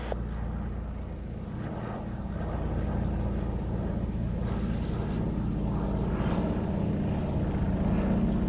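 Aircraft at the Victory Show 2022 air show, a steady low engine drone holding throughout at moderate distance, growing slightly louder in the second half, with faint background noise.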